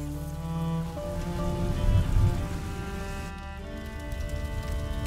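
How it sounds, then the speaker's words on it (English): Steady rain falls in A Plague Tale: Innocence, a continuous wash of downpour swelling briefly near the middle, layered under sustained tonal game music with no talking. "would you mind if we get out of the rain, please?"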